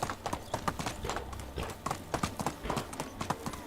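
A horse in Medieval Dynasty trots with a steady, brisk clip-clop of hooves, the hoofbeats loud and close in an uneven galloping rhythm.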